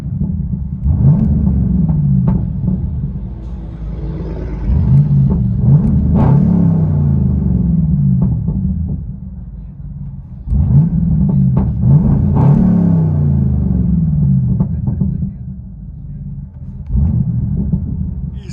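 Deep, loud rumble of a 2013 Chevy Camaro SS 6.2L V8 with true dual straight-pipe exhaust heard from inside the car, swelling in repeated revving surges over a steady burbling idle.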